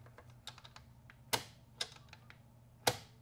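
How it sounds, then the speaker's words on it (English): Sharp mechanical clicks from a worn 4L80E transmission's park linkage engaging ring out at irregular intervals, three louder snaps over fainter ticking, close and without speech. "If you ever hear that clicking, that's what you're hearing when you put it in park"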